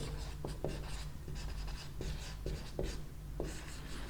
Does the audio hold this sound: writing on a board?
yes